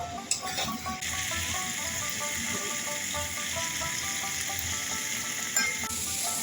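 Snakehead fish and radish curry masala sautéing in oil makes a bright, steady sizzle up close, with scattered scraping and stirring noises and no speech.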